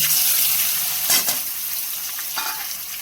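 Onions fry in hot mustard oil in a pan, a continuous close sizzle with a few louder bursts of crackle and stirring scrapes, and no voices.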